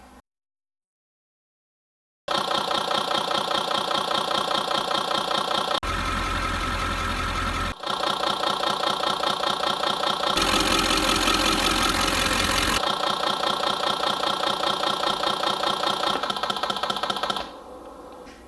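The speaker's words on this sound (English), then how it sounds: "I'm going to bring this DDEC 4 to 600 RPM right here on this bench." A Detroit Diesel Series 60 engine with a DDEC IV controller idles steadily at 600 RPM with a rhythmic mechanical knock after a moment of silence, continuous and close, shifting slightly in tone partway through.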